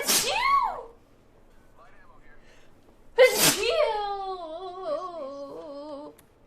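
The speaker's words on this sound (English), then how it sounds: "I have to sneeze." A person sneezes loudly twice, the first a sharp burst and the second a harsh explosive sneeze followed by a drawn-out voiced tail, with a quiet pause between them.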